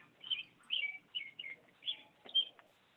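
Small bird chirping in several brief, high, bright bursts, faint and somewhat distant, heard during an online planning board meeting with no voices over it.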